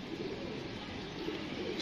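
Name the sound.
pigeons cooing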